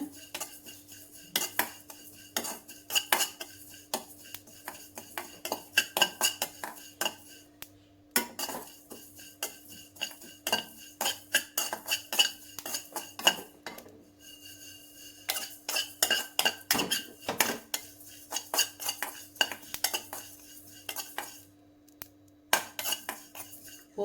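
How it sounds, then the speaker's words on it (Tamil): A metal spoon scrapes and clinks against a pan again and again while cumin seeds dry-roast for Andhra-style lentil powder, with a brisk irregular rhythm over a low steady hum. "சீரகம் இதெல்லாம் சும்மா லேசாக வறுத்தா போடுங்க"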